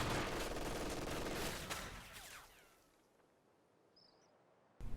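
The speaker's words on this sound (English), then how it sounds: "now when a machine gun fires upon them" Machine gun fire in the World War II strategy game Company of Heroes 2, a dense, loud burst of rapid shots at the start that fades out midway into quiet, with a sharp burst returning at the very end.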